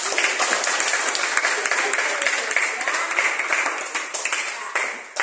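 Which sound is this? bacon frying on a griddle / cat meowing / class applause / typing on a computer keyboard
class applause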